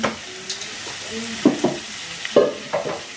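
Intestines fry in cooking oil while being stirred, giving soft sizzling with a few short, sharp clatters of a utensil against the pan in a quiet kitchen.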